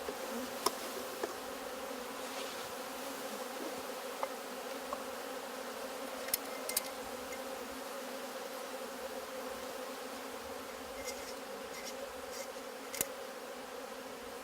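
Steady, dense buzzing of about half a cup of honey bees fills the whole stretch, a continuous drone with occasional sharper ticks and no voices.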